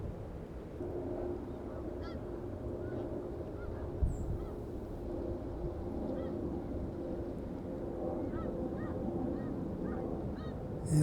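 Snow geese honk in a large flock below a perched osprey, a steady chorus of overlapping calls that runs throughout with a low rumbling background.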